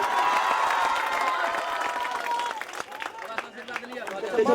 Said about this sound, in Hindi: ले ले सब जोरदार ताली बजाइए